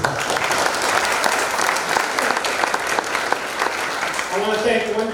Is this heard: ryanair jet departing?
no